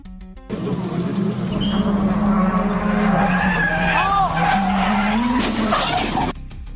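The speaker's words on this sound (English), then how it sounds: "That semi-truck just crashed into the bridge pillar" A semi-truck with failed brakes skids on the road toward a bridge pillar, a loud, sustained tire squeal with rising and falling screeches that lasts about six seconds before cutting off abruptly.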